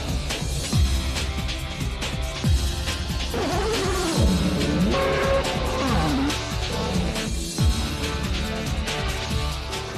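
Toyota-powered race cars roar past at a 1997 motorsport event, with loud engine sweeps rising and falling, tire squeal and dense track noise throughout.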